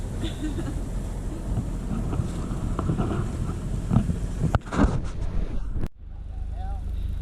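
A sailboat's motor runs steadily on a calm, windless morning at sea, a continuous low drone with wind buffeting the microphone, briefly cutting out near the end before resuming.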